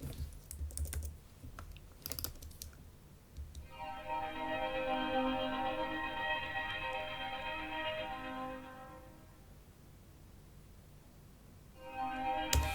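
A Logic Alchemy arpeggiated ambient synth pad using the International Mystery preset swells in with a shimmering, sustained texture, holds for several seconds and fades, with keyboard clicks and tapping around it.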